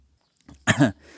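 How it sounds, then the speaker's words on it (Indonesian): A single short, close, clear cough from a man reviewing a smartphone indoors, with a brief breath before it. "Maaf ya, batuk dulu."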